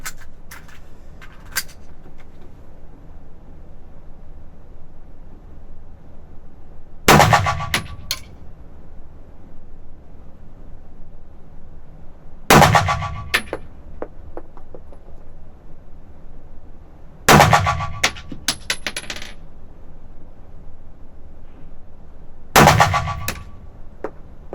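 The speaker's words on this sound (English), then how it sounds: "I'm gonna fire 5 at the right target." Daniel Defense H9 pistol firing five shots at a target on a range, sharp loud reports spaced several seconds apart with a quiet background between them.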